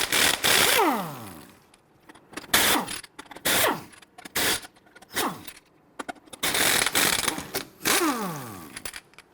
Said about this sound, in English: I want to go ahead and loosen and remove your lug nuts.